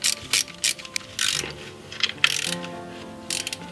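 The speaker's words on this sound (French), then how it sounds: "Alors Elio, remets en place les deux petites vis qui tiennent le carter en plastique là." A ratchet tightening the two small screws of a plastic engine cover during a cylinder head gasket job, in quick bursts of clicking pawl strokes with short pauses, close and clear.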